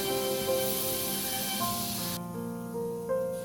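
Bay leaf and a dried red chilli hit hot mustard oil in a kadai, giving a steady spitting sizzle with bright hiss that continues without talk.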